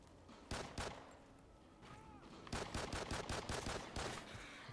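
Gunfire in the multiplayer video game Call of Duty: Ghosts, several single cracking shots and then a rapid automatic burst, sharp and fairly close, over a quiet game background.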